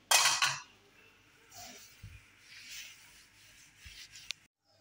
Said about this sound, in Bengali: শুধু এই কাউন্টার টপটা একটু মুছবো